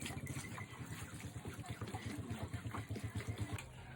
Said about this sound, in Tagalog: Lagyan lang natin ng tubig mga Mi.